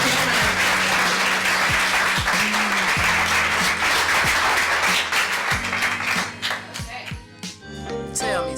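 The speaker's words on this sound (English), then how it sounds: "So let's give another round of applause for our team" A teen summit audience applauds its team, with a broad wash of clapping under loud music carrying thumping beats and tones; the clapping thins out toward the end.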